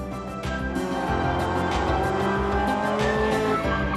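Rally cars race flat out on a stage of the 1992 Circuit of Ireland Rally, among them a small 1000cc car, with a loud steady engine roar and shifting revs, sharp tire squeals and skids, and no talk.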